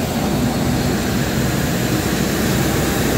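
A parked airliner's engine roaring steadily at the gangway before boarding, a loud, constant broadband drone close by with no speech.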